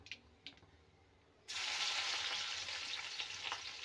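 Crushed garlic hits hot oil with popped mustard seeds, setting off a sudden loud, sustained sizzle that starts midway after a few faint spatters and fills the rest of the moment at close range.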